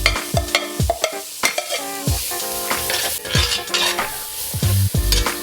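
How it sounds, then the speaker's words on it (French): Onions hit a hot cocotte and sizzle loudly while being stirred for a squash velouté, with repeated metal scrapes and clinks of the utensil against the pot over the frying hiss. "on va rajouter les oignons directement dans la cocotte"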